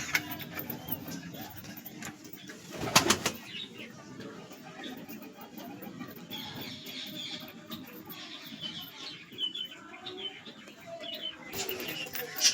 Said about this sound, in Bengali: দেখো পায়রা তিনটে চলে এসছে, আবার উঠছে, চলে আসবে এবার